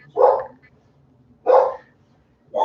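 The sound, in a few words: dogs barking at a delivery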